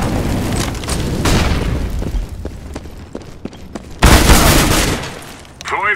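A flashbang grenade goes off in Counter-Strike: Global Offensive, a sudden loud broadband burst following a run of thudding booms and sharp pops, close and harsh.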